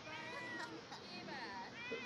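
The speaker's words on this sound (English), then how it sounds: "That cat is horny!" A cat meows in The Sims 4, its drawn-out, wavering cries rising over a steady bed of game background noise and chatter for about two seconds.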